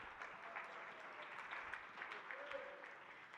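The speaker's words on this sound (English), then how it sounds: "give him a round of applause" Faint audience applause for a labor leader at a political engagement forum, steady scattered clapping with a voice faintly under it, heard from a distance.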